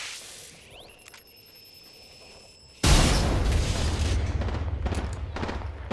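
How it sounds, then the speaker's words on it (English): A video game explosion blasting open a hole: a sudden loud boom hits after a quiet stretch of faint electronic tones, then rolls into a dense, rumbling roar of debris that fills the rest of the moment. "I'm gonna blow open this hole."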